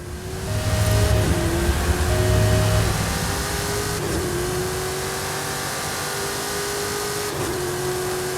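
Mercedes-AMG One engine in a racing video game, a loud steady whine that climbs through the gears with brief dips at each shift, close and continuous without speech.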